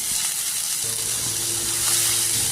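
Chopped coriander leaves sautéing in a pan for coriander chutney: a continuous close sizzle with a faint tonal hum joining partway, no voices.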